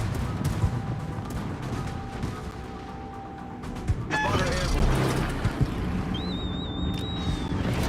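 A naval gunfire volley in the World of Warships video game booms out partway through, over a rumbling sea and engine backdrop, with a whistling shell tone trailing afterward and a voice talking over part of it.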